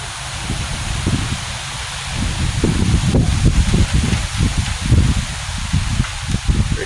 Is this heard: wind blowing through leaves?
yes